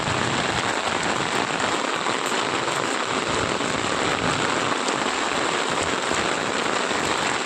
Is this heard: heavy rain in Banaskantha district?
yes